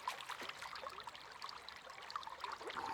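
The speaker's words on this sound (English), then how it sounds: "Let's go grab us a drink out of the creek." Drinking water from a creek in the video game Medieval Dynasty, a soft continuous trickling and gurgling water sound at low volume throughout.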